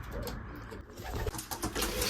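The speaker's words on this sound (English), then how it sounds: "So the young birds already coming back in." Young racing pigeons returning to their loft, soft cooing calls near at hand with a few scattered sounds of birds settling, fairly quiet overall.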